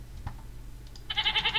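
A goat in the video game Minecraft lets out a short, wavering bleat, close and fairly loud, after a brief quiet lead-in.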